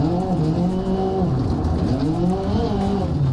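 A rally car in Dirt Rally 2.0 runs at full throttle on the Ocean Beach stage, its engine roaring loudly and continuously, with pitch climbing and dropping through gear changes.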